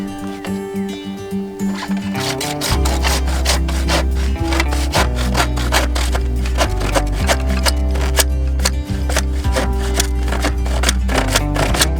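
A saw cuts through a well pump pipe during a hand well pump install with fast, steady back-and-forth strokes. The rasping is loud and close, and a brief low hum is heard before the sawing starts.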